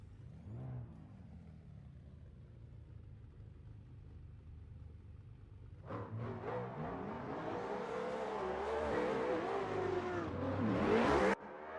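Drift cars, a BMW wagon and a Toyota A90 Supra, launching side by side at the start of a Vallelunga-style drift battle: a low idle rumble, then engines roar up abruptly and build into loud, sustained revving before cutting off.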